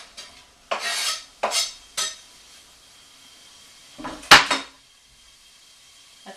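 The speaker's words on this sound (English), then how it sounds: "That's a sizzle. That's a sizzle." Several short bursts of sizzling as zucchini noodles hit a hot pan, followed by a sharp metallic clink of a utensil, with quiet gaps between.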